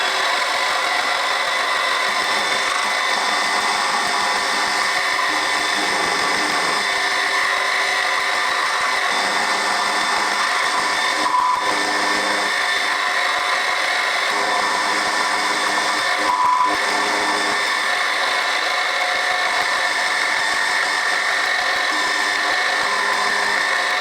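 A milling machine end mills a small piece of steel clamped upright in a vise, its cutter producing a steady, loud mechanical whine that runs without a break, with no voices.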